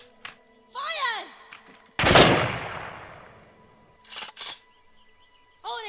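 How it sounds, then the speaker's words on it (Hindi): A single loud gunshot in a Hollywood action film, a sharp blast with a long decaying tail, surrounded by brief whooshes and clicks of weapon handling. "तैयार, लोड करो, फायर, फिर से"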